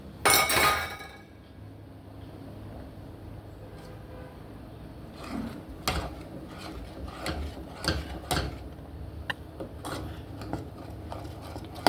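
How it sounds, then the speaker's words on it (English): A spoon stirs brown sugar into Jamaican oats porridge in a pot, with repeated metallic clinks and scrapes against the pot sides in an irregular rhythm, close and fairly loud, with no talking. "I want to be adding the sugar and stir as I go along"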